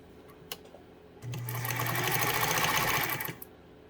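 A Pfaff 230 sewing machine sews a straight stitch in a close, even two-second run of humming motor and fast needle clatter, bracketed by a few light clicks before and after.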